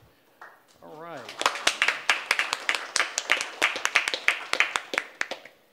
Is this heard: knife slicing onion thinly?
no